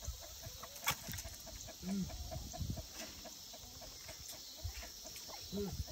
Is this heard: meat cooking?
no